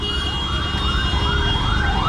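An ambulance siren wails in repeated rising and falling sweeps, steady and fairly close, over road traffic rumble, with no voices.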